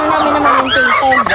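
Farm chickens cluck and a rooster crows loudly and close by in one brief, continuous burst of calls.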